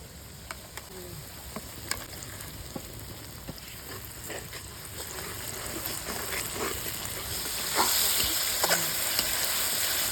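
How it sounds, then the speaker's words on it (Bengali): Spices tipped onto fried onions in hot oil for a duck meat curry, a steady close sizzle with scattered crackles and pops that grows louder toward the end. "পেঁয়াজ ভাজা হয়ে গেছে, এখন মশলাটা দিয়ে দেবো।"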